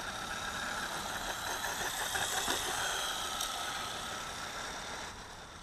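A Remo Hobby Rocket SCT radio-controlled short course truck runs at full speed, a steady buzzing electric motor whine with faint rattling, fairly distant and fading slightly toward the end.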